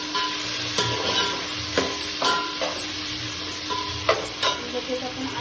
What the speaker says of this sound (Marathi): मिरची झाल्यावर आपण टोमॅटो टाकूया